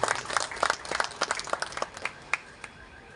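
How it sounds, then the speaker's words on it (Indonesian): An audience at a disaster relief aid event in Indonesia gives a round of applause for the head of the Indonesian retailers' association, producing a soft, distant patter of scattered claps that gradually thins out. "Berikan tepuk tangan sekali lagi kepada Bapak Solihin."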